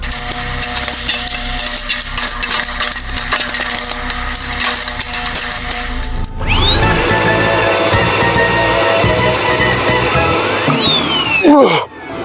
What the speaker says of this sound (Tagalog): At saan mo naman nakuha ang vacuum cleaner na yan?